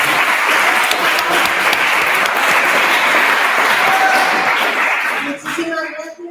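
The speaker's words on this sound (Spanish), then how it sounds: "les diría que un fuerte aplauso antes de hablar" Loud, dense audience applause at a women-in-sport masterclass, a steady wash of many hands that tapers off near the end as a voice begins speaking.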